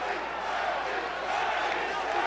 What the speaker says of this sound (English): You hear the chant of Hermes from the crowd